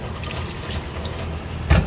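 Water drains off corn starch while cooking, a steady trickling pour with a brief louder splash near the end.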